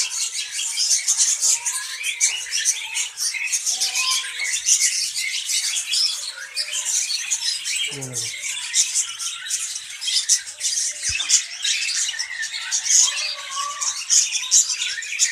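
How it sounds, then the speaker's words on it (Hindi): Finches and doves in a nesting aviary fill the air with dense, continuous chirps and twittering squawks at close range, with a brief low coo partway through. "देखिए फिंचेस भी नीचे आ गई हैं उठाने के लिए, ये देखें।"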